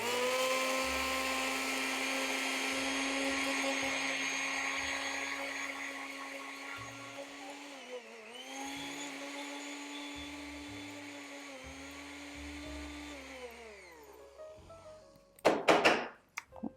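A blender grinds one cup of organic rolled oats into flour, a loud steady high whirring motor that dips and wavers midway as the load shifts, then winds down into a few clunks at the end.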